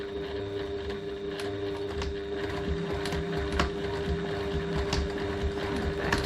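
A sewing machine runs steadily, stitching a garment seam close to a pocket, with a continuous mechanical whir and a rapid needle rhythm for the whole stretch, close and fairly loud with no talking.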